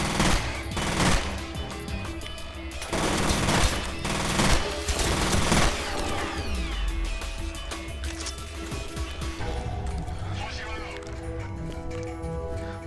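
Gunfire rattles through a firefight in the shooter F.E.A.R., with bursts of automatic shots in dense clusters early on, then thinning into scattered single shots and clatter as someone talks over the action.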